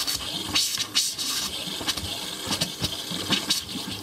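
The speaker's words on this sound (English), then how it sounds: "I'm gonna push some water up" Water mixed with pink antifreeze gushes from the cold side of a Passport 217 RV kitchen faucet during winterizing, a splashy hissing flow with irregular spurts and bursts of air, close and fairly loud.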